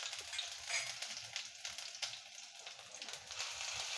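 Mustard seeds, cumin and ginger-chili-garlic paste sizzling in hot oil for a Kathiyawadi dish, a faint, steady frying hiss with soft crackling pops throughout.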